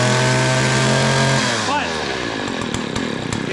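A weed eater's small two-stroke engine runs loud and steady, then loses revs and sputters down as it shuts off without throttle, with faint noise in its last moments.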